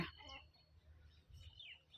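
Chickens clucking and calling on farm land among ducks, faint and distant, with a few brief squawks over a low steady background rumble.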